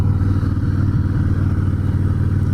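A Harley-Davidson Breakout motorcycle with a Twin Cam engine runs steadily and loudly throughout, a low rumbling drone with a slight rise in pitch partway through, as if cruising along.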